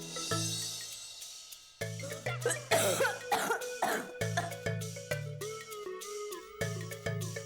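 A man's repeated harsh coughing fits after eating chili, loud and close, with brief pauses between bursts and some throat clearing mixed in.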